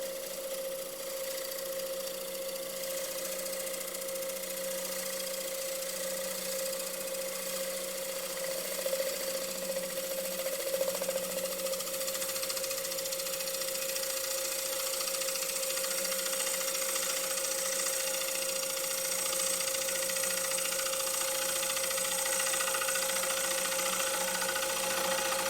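Power saw making a fine finishing cut on a woodworking piece, a steady, moderately loud motor whine with a constant tonal hum running unbroken for the whole stretch, with no talking.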